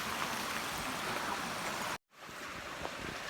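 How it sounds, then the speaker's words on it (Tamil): Steady rushing flow of a small waterfall beside a steep mountain walking trail in Waterfall Gully, Adelaide, close and continuous, with a brief dropout partway through. "அருவி ஓடிட்டே இருக்கு."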